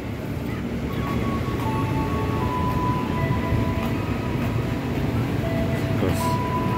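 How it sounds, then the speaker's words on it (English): Commuter train rolling into a station on the Jakarta line toward Depok, a steady low rumble of wheels and carriages with thin metallic squeals and tones above, moderately loud and continuous. "The train is coming."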